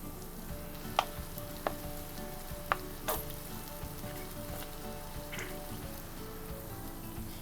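Tomato sauce and soy sauce poured into a hot frying pan for homemade gobi manchurian, a steady dense sizzle with a few sharp utensil clinks near the start.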